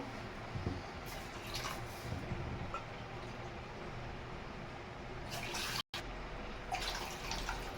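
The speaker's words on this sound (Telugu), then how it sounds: "ఇక్కడ మూడు కప్పులు వాటర్ అయితే యాడ్ చేస్తున్నాను" Water is poured from a cup into a pan while rava is being cooked, a steady splashing rush under faint background hiss, with a brief cut near the end, and nobody speaks.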